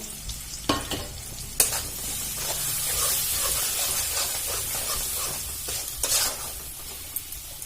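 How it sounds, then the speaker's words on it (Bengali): Ground chilli, Kashmiri chilli powder and turmeric fry in a pan for a cabbage dish, a close steady sizzle and hiss broken by occasional scraping stirs and sharper spatters, with no voices. "দিয়ে ভালো করে একটু ভেজে নেব"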